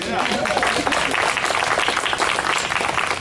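A crowd at a National Votes for Women Trail dedication honoring Black women suffragettes breaks into loud, dense applause, with voices mixed in.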